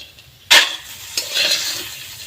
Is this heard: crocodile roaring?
no